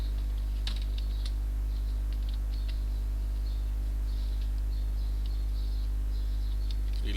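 A computer keyboard clicks in quick irregular bursts of keystrokes while a web page is built in HTML and CSS, close and fairly quiet over a steady low electrical hum, with no talk.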